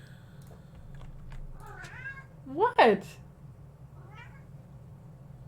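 An agitated male pet cat yowls several times. A soft cry leads to one loud, rising-and-falling meow at close range and then a fainter call, while a person briefly speaks.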